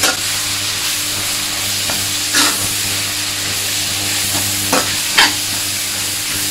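Ingredients are stir-fried in a wok, with a steady hiss of frying beneath a low hum and several sharp scrapes and clanks of the spatula spaced through.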